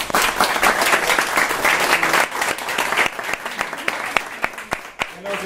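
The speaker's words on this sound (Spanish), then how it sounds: "pues un fuerte aplauso" A roomful of people gives strong applause at the end of a team's timed presentation, with dense continuous clapping that thins into scattered individual claps toward the end.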